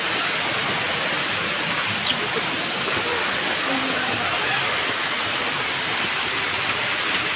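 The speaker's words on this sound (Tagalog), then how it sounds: "So titingnan natin yung Bulawan Falls." Bulawan Falls roars as a loud, steady broadband rush of falling water, constant and enveloping throughout with no pauses.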